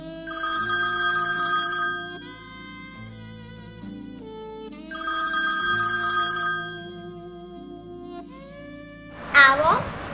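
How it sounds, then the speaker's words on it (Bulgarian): A telephone rings in two long electronic bursts separated by a pause, loud and clear over soft background music, followed by a brief sharp rustle at the end. "когато от мислите й откъсна телефонно позвъняване"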